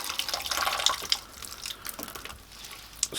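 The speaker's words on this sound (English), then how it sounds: "squeezing as much water as I can out and adding that to the other bucket" Water squeezed by hand from soaked Reptichip coconut substrate splashes and trickles into a bucket in uneven spurts close by, louder at first and then tapering into drips.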